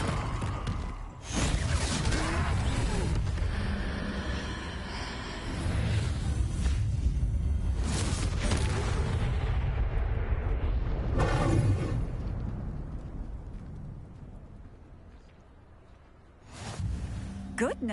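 A Confringo blasting-spell explosion against a troll in Hogwarts Legacy gives loud booming bursts and whooshes over several seconds, mixed with battle noise and game characters talking.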